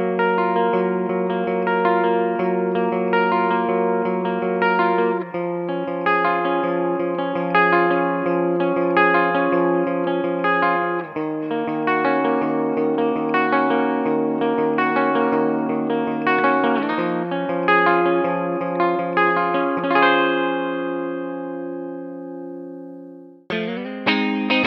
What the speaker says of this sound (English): I think it would be best if I played a little bit of a demo with this guitar